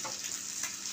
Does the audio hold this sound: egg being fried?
yes